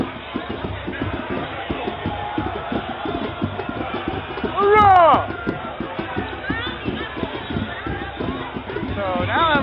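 A dense crowd of people fills a street at night during a festival-style night out in Ybor, with steady loud babble, chatter and shouts, and a few whistles or cheers rising above the hubbub.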